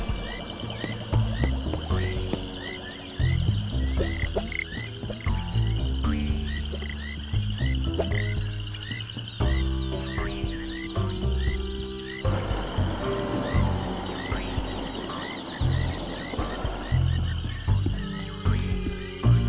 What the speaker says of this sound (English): There's a special breed of frog that only lives underneath mossy rocks around the swamp.